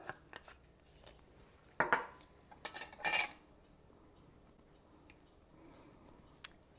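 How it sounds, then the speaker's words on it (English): A spoon clinks and scrapes against a bowl while stirring Ceylon cinnamon into a peanut butter dip for apples, giving a few separate bursts of metallic scraping with quiet gaps between them. "Give that a little stir"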